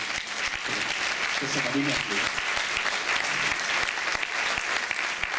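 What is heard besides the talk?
applause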